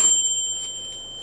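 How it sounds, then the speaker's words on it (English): A timer bell rings once at the end of a cooking run on a Peak Sixy grill, a bright sustained ding near the start that fades and lingers briefly alone, with no talk. "And the bell sounds."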